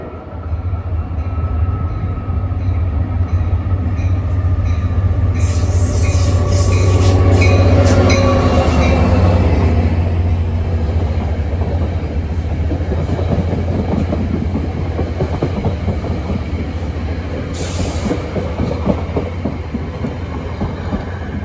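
An NJ Transit train hauled by an EMD GP diesel locomotive passes at Ho-Ho-Kus/Ridgewood, loud and close, with a deep engine rumble, rolling wheel noise and brief wheel squeal as the cars go by.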